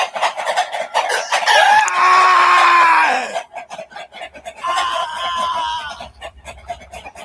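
A rooster crows loudly in two long drawn-out calls, with hens clucking in short bursts around and between them, close by and with no one speaking.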